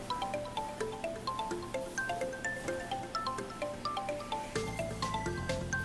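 Water is trickled drop by drop into an already full glass, making a steady, rapid train of small liquid drips that plink evenly and close up, with no voices.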